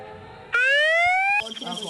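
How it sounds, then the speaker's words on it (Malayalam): A rising electronic siren wail from the Siren Head creature in Minecraft sounds loud and close for about a second, starting abruptly and cutting off into game noise and voices. "അയ്യോ അയ്യോ സൈറൻ ഹെഡാണ്"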